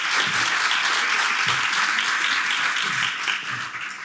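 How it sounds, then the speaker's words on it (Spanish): A seminar audience applauds steadily, a dense and sustained patter of many hands clapping at once that carries on without a break. "adelante Joaquín, un aplauso"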